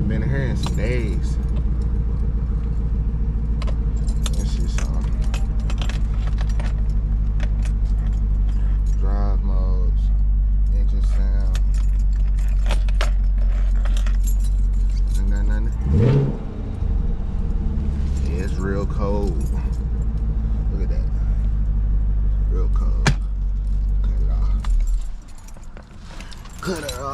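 A 2024 BMW X5M engine running just after a cold start, a loud steady low idle rumble that holds throughout, heard up close with keys jangling and brief movement noises, then fading slightly near the end.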